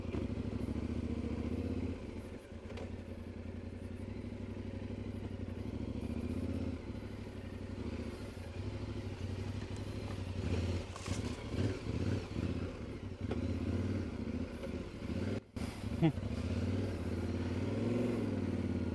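A Yamaha Tenere 700 motorcycle rolls slowly along a rural track, its engine holding a steady low rumble throughout with occasional clatter and slight throttle changes, close and continuous, no talking.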